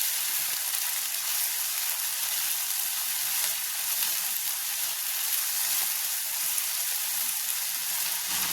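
Shallots sautéing in a pan for a Kerala-style jackfruit curry, giving a steady, even sizzle and frying hiss that carries on without a break and without voices.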